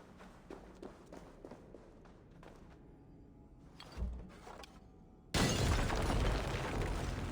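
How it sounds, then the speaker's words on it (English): A loud explosion in the video game Assassin's Creed Valhalla bursts in suddenly after quiet footsteps and movement, then holds as a dense, sustained roar to the end. "Wow, what an explosion."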